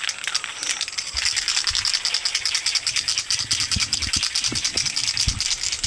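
A spray can of clear coat being shaken hard, its mixing ball rattling in a fast, steady rhythm that stays close and loud throughout.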